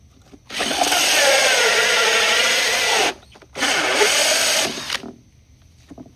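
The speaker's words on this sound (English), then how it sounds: "Cutting a thin lip between the two sizes of the drill" A power drill whines loudly in two sustained bursts separated by a brief pause, close and harsh, cutting a thin lip between two drill sizes for a car speaker install.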